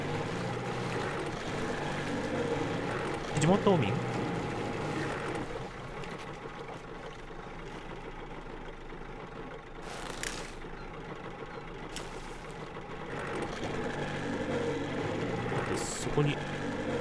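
Boat engine droning steadily while a boat is driven in Metro Exodus, with water wash and occasional splashes or knocks, as someone talks over it.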